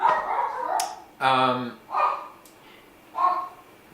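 A dog barks a few times in short separate bursts, close and fairly clear, with someone talking in between.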